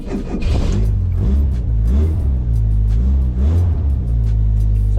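A Lotus sports car engine fires up and revs, with a loud, close, deep rumble that swells and falls through several throttle blips over a few seconds.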